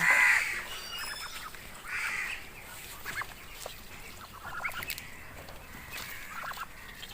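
Chinese ducks on a commercial farm in Assam call in short, honking bursts that come and go, fairly close and moderately loud against a faint outdoor background.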